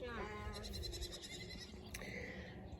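Sheep and goats bleat in a warm barn, with several wavering, nasal calls overlapping close by at moderate volume and a busy background of animal noise.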